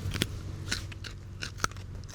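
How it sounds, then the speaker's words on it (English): A freshly pulled garden carrot, wiped clean in the field, gets bitten and chewed on a spring homestead, giving a few sharp, close crunches spread across a couple of seconds with quiet outdoor background between them. "Do a quick little crunch test on this."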